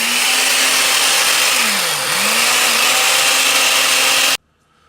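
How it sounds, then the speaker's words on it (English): A blender grinds Lucky Charms cereal with a loud, steady whirring roar, its motor pitch dipping and recovering briefly midway before the sound cuts off abruptly at the end. "we got to throw these in a blender"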